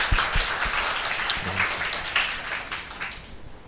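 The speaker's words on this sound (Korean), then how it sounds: "이 시간 하나님께 우리 영광의 박수 올려드리겠습니다." Applause from a church congregation during a Saturday worship service, moderately loud clapping that begins strongly and gradually thins out over a few seconds.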